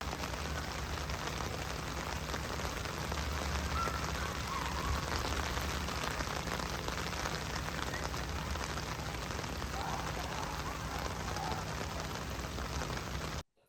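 Steady rain pours on a college campus during a storm that closed the school, a dense, continuous hiss of drops on pavement and surfaces lasting throughout, with no voices.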